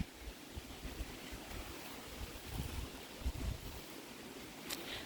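Wind gusting through a backyard garden in zone 7B near pecan trees, a constant low roar of buffeting air with uneven surges, loud and close against the microphone, with no voices.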